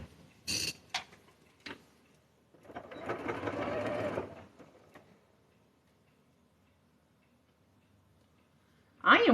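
A sewing machine stitches through newsprint paper along a marked seam line in one steady burst of about two seconds, preceded by a few brief clicks and followed by silence.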